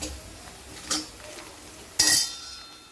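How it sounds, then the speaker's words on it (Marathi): A spoon stirs red chili and ambari masala through hot tempering oil in a pan, giving two sharp metallic clinks a second apart over a low, steady background hiss. "याला पण छान असं फोडणीमध्ये परतून घ्यायचं आहे"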